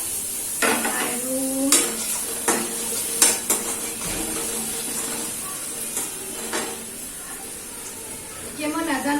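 Onions browning in a pan with ginger-garlic paste added: a soft steady sizzle under repeated clanks and scrapes of a spoon stirring against the pot, with a few louder metallic knocks.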